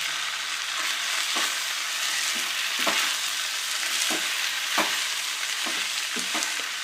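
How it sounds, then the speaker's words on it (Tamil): A spoon scrapes and stirs spice powder through rice in a hot pan, the steady sizzle broken by about eight sharp, evenly spaced scraping strokes, close and fairly loud, with no talking. "பொடியை போட்டு நல்லா மிக்ஸ் பண்ணணும்."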